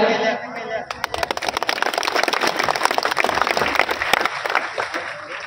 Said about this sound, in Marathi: तुम्ही टाळ्या वाजवल्या त्याबद्दल धन्यवाद